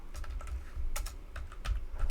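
Keys on a Mac keyboard are pressed in a quick, uneven burst of crisp clicks and taps while a short dig command is typed, close up with no talk.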